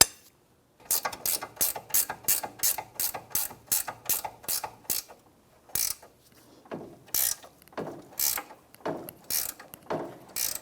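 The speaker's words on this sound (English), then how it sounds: "speed wrench" A speed wrench ratchets on a rusty CV axle nut of a 2011-2016 Hyundai Elantra: a rapid, even run of close, crisp clicks, then slower, irregular bursts of ratcheting with short pauses between them.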